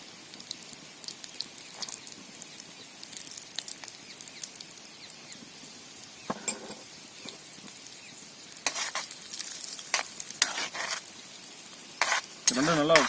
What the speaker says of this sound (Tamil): இது கூட கேஷ்யூ நட்ஸும் திராட்சையும் போட்டு ஃப்ரை பண்ணிக்கலாம்.